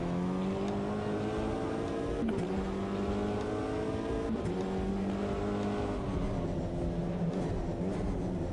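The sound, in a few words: Aston Martin engine in Automobilista 2, a video game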